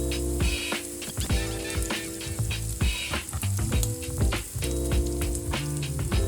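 Diced pepper, onion and garlic sear loudly in a hot pan, with a steady close sizzle and frequent crackles and light scraping from stirring throughout.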